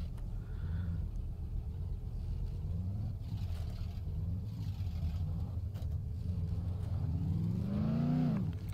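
A car engine in the video game Dead Island: Definitive Edition rumbles steadily, then revs higher toward the end, heard alone without talk.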